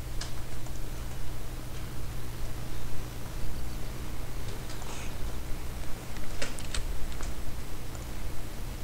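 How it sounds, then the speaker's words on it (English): Fast, uneven clicking of a computer keyboard typed one-handed during online co-op play of Card Hunter, steady clatter over a constant low hum and hiss, no voices. "One-handed typing, so much stuff's going on."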